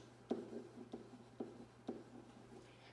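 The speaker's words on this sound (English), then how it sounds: "So I'm going to write air pump. I'm going to write hole punch." A pen or pencil writing words on paper, several short scratchy strokes in irregular bursts, close and quiet, with a steady low hum beneath.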